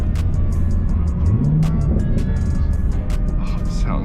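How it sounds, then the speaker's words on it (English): A 2023 Camaro with the LT1 V8 and six-speed manual blips its throttle while rev matching, a loud low engine roar with a brief rising and falling rev sweep heard from inside the car, with a voice speaking over it. "It sounds so good when it's rev matching."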